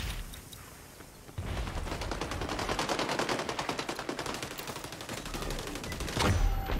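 Rapid, sustained automatic gunfire in the shooter game XDefiant, loud and close, with a grenade-like explosive burst near the end.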